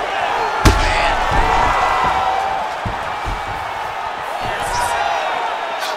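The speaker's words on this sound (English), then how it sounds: "you hear the crowd react every time they come together because they understand the power" Arena crowd in the UFC 5 video game on PS5 reacts with swelling murmurs and cheers to heavy strikes during a McGregor vs Gaethje bout, with sharp impact thuds punctuating a continuous loud crowd bed.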